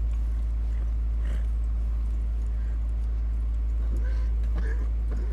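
Horse hooves clop in a video game, a few scattered hoofbeats over a steady low hum, with a voice talking at times.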